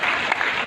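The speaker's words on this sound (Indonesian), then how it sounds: "Tepuk tangan dulu untuk anda semuanya." Brief burst of audience clapping at a humorous Halal bi Halal sermon held at PT FIM in Sunter, Jakarta; a dense, steady patter of many hands lasting under a second, with no voices.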